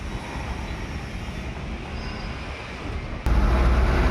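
Athirappilly bus at Chalakudy starting up: a low mechanical rumble, then a sudden louder engine surge near the end as it fires and settles into a heavier steady drone.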